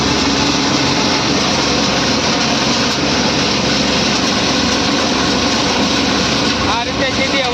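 A tractor-driven groundnut thresher runs loud and close, powered by a double-clutch tractor. The engine and machinery give a continuous, even roar, and a voice may be faintly present beneath it.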